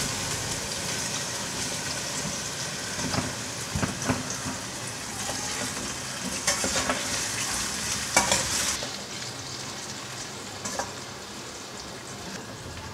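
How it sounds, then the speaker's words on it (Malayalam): Plantain pieces frying in hot coconut oil give a steady, close sizzle with occasional stirring scrapes and small crackling bursts throughout, with no talking. "അപ്പോൾ ഞാനിത് വറുക്കാൻ പോവുകയാണ്. അപ്പോൾ എണ്ണ ചൂടായിട്ടുണ്ട്."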